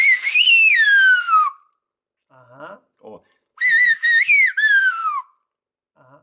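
Silbo herreño, the whistled language of El Hierro, performed by a whistler: two loud, clear whistled phrases with gliding, falling pitch contours, separated by brief soft speech.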